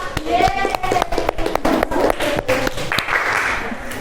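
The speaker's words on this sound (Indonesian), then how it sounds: "Beri tepuk tangan untuk Mbak Valerina Nasita" Applause from a classroom audience after a student's presentation, with dense clapping running for about four seconds, close and fairly loud, and brief talk mixed in.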